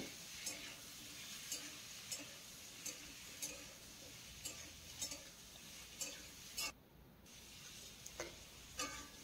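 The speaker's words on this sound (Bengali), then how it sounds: "মূলোটাকে দিয়েও কিন্তু 2 মিনিট ভালো করে ভেজে নিতে হবে।" Sliced radish and potatoes fry in oil in a pan, giving a steady soft sizzle broken by regular, evenly spaced scrapes and taps of a spatula stirring.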